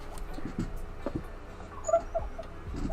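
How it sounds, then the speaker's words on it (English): A sleeping dog gives soft whimpers and muffled little yips in short irregular bursts, close by and fairly faint against a quiet room. "The dog barking in her sleep woke me up."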